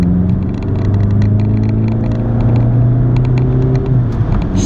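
Stock VW Jetta TDI diesel with a new South Bend clutch, accelerating at full throttle in third gear from 2000 RPM, a close, loud, continuous engine drone rising steadily in pitch.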